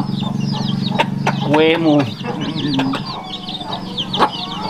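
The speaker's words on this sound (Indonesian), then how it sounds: "Kasih makan ayam guys." Chickens clucking and squawking while being fed, several birds calling close by with one loud drawn-out squawk, as a person speaks briefly among them.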